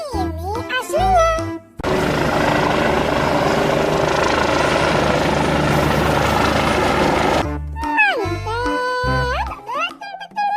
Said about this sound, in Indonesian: ada helikopter polisi warna putih kombinasi biru